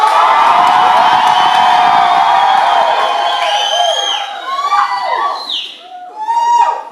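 A worship-night congregation shouts praise to the Lord, a loud sustained roar of massed voices with whoops and cheers that thins out and swells again toward the end.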